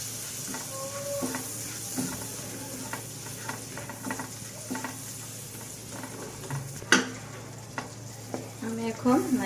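Grated coconut frying in melted butter in a pan while being stirred, a soft continuous sizzle with repeated scraping strokes and an occasional utensil clink, close up.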